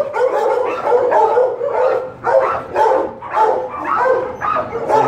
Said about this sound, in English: This is a good dog too, man.